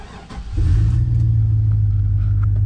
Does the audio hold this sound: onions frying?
no